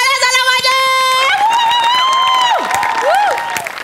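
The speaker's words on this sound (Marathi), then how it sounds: "जोरदार टाळ्या झाल्या माझ्या." An audience at a Marathi comedy stage show claps and cheers in a dense wash, partly buried under loud tonal music cues and sweeping sound effects.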